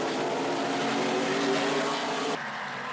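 Dodge-powered ARCA race car running slowly on a road course, its engine droning steadily at close range with a loud broadband roar, dropping in intensity near the end.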